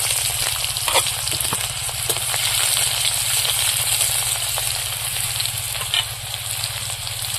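Chopped onion frying in hot oil in a wok for a taro and fish curry, a steady dense sizzle with occasional stirring clicks, close and continuous with no talking.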